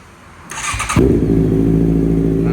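A 2018 Honda CB650F motorcycle with an AR exhaust cranks briefly, then catches and settles into a loud, steady idle close by.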